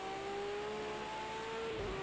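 Race car engine in the video game Project Cars 2 holds a steady, sustained whine at constant pitch, loud and continuous with no talk over it.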